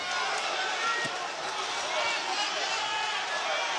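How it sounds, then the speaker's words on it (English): Crowd noise at a ProBox TV pro boxing contender bout swells into a steady, loud roar filling the arena, broad and sustained throughout with no break. "Now the crowd gets loud, trying to push their man on."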